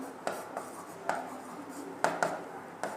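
A pen scratches out entries in a paper accounts book in a handful of short, distinct strokes, close and moderately clear, with no talk over them.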